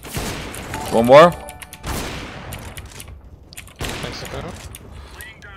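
Gunfire in a Counter-Strike match on the Inferno map: a quick burst of loud shots near the start, then further sharp reports, with a player talking over the action.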